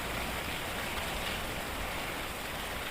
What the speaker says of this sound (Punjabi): ਅੱਜ ਤਾਂ ਬਾਲਾ ਹੀ ਜ਼ਿਆਦਾ ਤੇਜ਼ ਮੀਂਹ ਹੈ ਬਹੁਤ ਜ਼ਿਆਦਾ ਹੈ